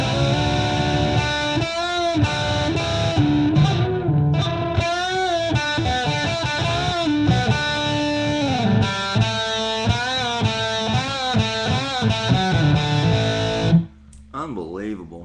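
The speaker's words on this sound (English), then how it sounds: "This is the Zoom Wild Crunch distortion." Electric guitar through the Zoom Wild Crunch distortion on a Zoom R8 plays a busy run of notes and chords with a crunchy, saturated tone, stopping abruptly near the end.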